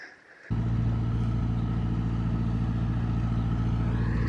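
Gasoline engine of a Massey Ferguson TO 35 tractor, at least 50 years old, kicks in after a brief quiet moment and then runs loud and steady with a low rumbling drone while pulling a brush hog.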